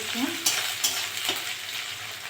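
Onions and green chillies sizzle steadily in hot oil in a pan, punctuated by a few sharp spatula scrapes and stirring strokes, close by with no talking.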